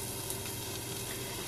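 Asparagus sautéing in a pan, a steady, gentle sizzle and hiss close by, fairly quiet and even, with no voices.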